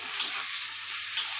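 Onions frying in a pan for a potato curry, a soft steady sizzle with faint crackles, close and continuous without talk.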